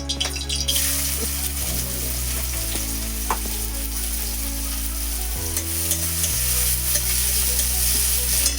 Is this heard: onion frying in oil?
yes